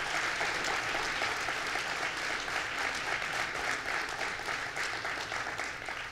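A large audience applauds police officials and sheriffs at a governor's announcement, steady, even clapping from many people that holds at a constant moderate level throughout, with no voices over it.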